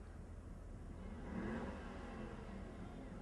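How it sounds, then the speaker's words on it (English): A car engine revs during a homecoming parade, a moderate rise and fall in the middle of a steady low rumble of idling traffic and street noise. "Oh, somebody's got an engine."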